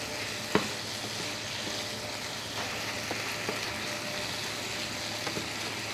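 Crushed unpeeled garlic cloves and thyme fry in a hot pan, giving a steady, moderate sizzle beneath light, intermittent stirring scrapes and one sharper knock near the start.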